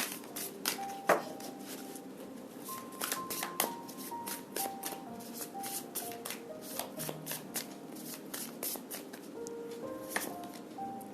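Tarot cards shuffled by hand at close range, a soft continuous riffling and flicking with light taps, steady and fairly quiet, no voices over it.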